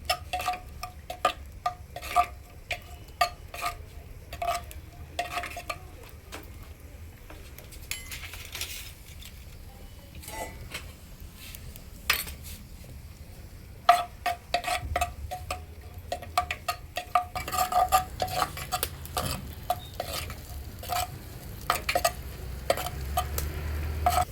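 Finely chopped onion sautéing in hot oil for a mutton curry cooked on a wood-fired clay stove, a steady low sizzle with frequent close scraping and clicking from stirring throughout.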